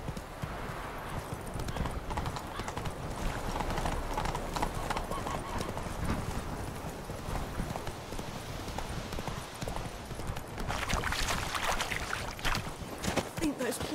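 Roach the horse gallops in The Witcher 3, hooves drumming in a fast continuous clip-clop, close and steady with a brief whinny-like rise near the end.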